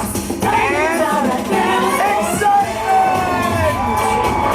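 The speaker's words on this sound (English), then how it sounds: "Big crowd reaction. Here it comes." A large crowd at the Universal Studios Florida reopening day cheers and whoops loudly and continuously, with many excited voices and high shouts rising and falling close by.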